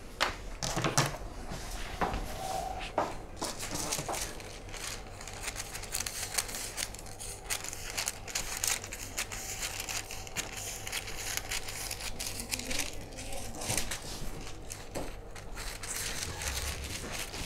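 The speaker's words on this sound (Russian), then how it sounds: "Смотрите, сейчас вырезаю." Scissors cut through a paper jacket sewing pattern, a long run of close, crisp snipping and rustling paper with occasional handling knocks throughout.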